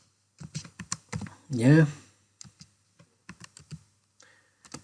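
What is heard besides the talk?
typing on a computer keyboard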